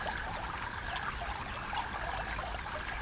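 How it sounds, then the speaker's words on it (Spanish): Water flows steadily in a continuous soft rush and trickle, gentle and even throughout with no voices. "Los elementos naturales, como el agua, emiten sus propios sonidos"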